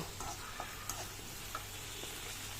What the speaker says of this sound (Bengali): ভালো করে পেঁয়াজটা ভাজা ভাজা হয়ে যাচ্ছে